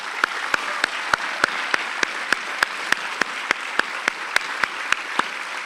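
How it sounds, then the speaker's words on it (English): Sparse, evenly spaced claps ring out one after another over a quiet hall hiss at a summer program's mainstage event for students, fairly soft and distant, with no talking. "I'd like to end with a big applause for the students who've gone through this 4 weeks"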